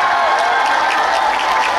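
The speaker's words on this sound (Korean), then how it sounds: "지금 햇빛을 맞으며 응원해주시는 저희 팬클럽 여러분들한테도 박수 한번" A fan club audience applauds at an outdoor festival, a dense, steady wash of clapping from a crowd that carries evenly through the whole moment without a break.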